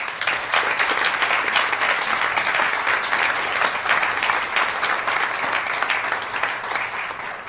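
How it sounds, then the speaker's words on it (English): A room at a University of Minnesota Board of Regents meeting gives a round of applause for a young man. Many hands clap steadily and evenly throughout at a moderate, room-filling level. "I would ask that we give him a round of applause"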